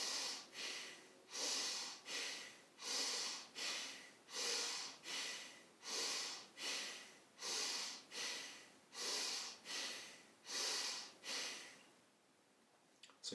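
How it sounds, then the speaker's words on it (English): Bhastrika Pranayama yoga breathing: about a dozen deep, forceful breaths in a steady rhythm, each a loud, close, airy rush, ending in a short quiet pause. "all I'm doing is breathing in as deeply as possible and letting the air come out"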